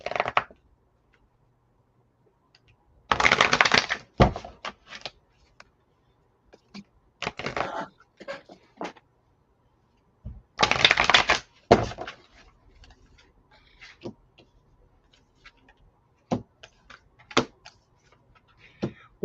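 A deck of tarot cards being shuffled in several bursts, with brisk riffling rustles separated by quieter taps and handling sounds, close and fairly soft.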